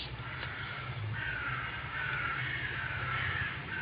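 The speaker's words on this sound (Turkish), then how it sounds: "Kargalar haber veriyor." Crows caw repeatedly over a steady background hum, several harsh calls spaced across the moment at moderate distance.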